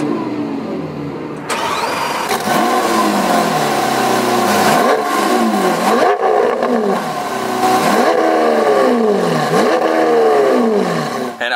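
A 2020 Lamborghini Aventador SVJ fires up with a sharp starter whine and bark, then settles into a loud, close engine roar with repeated throttle blips rising and falling in pitch; no talking.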